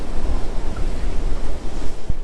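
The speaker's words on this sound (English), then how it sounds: "Got a little splash." Ocean waves wash and splash at the Fraser Island champagne pools, a loud continuous roar of surf mixed with wind buffeting the microphone.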